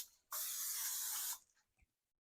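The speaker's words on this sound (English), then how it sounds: "I'm using nonstick spray for ease and convenience." A nonstick cooking spray can hisses in one steady burst of about a second onto a 13 by 9 casserole dish, close and loud, followed by a few faint clinks.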